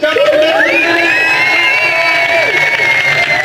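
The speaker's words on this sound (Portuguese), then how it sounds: "A plateia comemora como se estivesse no centro de controle da NASA." Children and adults in an audience at a NASA space-adventure event in Rio de Janeiro cheer and whoop loudly after a rocket countdown, a continuous dense crowd roar with rising shouts throughout.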